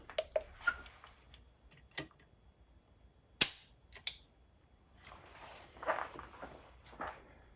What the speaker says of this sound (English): Let's try the trigger pull here, and we're going to be using our Lyman trigger pull gauge.